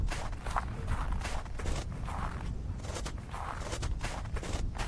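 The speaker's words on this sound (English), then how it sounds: "the footsteps in the snow. It's so well done." Footsteps crunching through snow in The Last Door Season 2: a steady, even rhythm of soft crunches, roughly two per second, over a continuous muffled ambient background.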